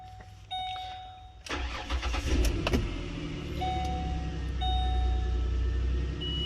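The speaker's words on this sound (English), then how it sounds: "I could show the vehicle is able to start." A Ford Explorer engine cranks briefly after a few faint chimes, catches and fires, then settles into a steady idle, close by with no talking.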